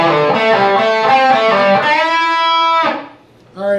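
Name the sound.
distorted electric guitar solo lick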